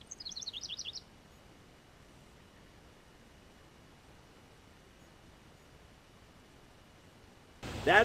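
Near a tree-mounted birdhouse where a wren and a pair of mourning doves are nesting, a quick burst of high chirps sounds in the first second. A long stretch of faint outdoor hiss follows, then a sudden rustling noise at the end.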